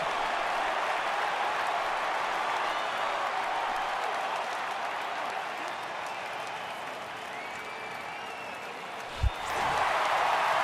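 Virtual stadium crowd in MLB The Show 18 baseball game, a steady broad roar of cheering and applause sustained throughout, with a brief sharp thump near the end before the crowd swells again.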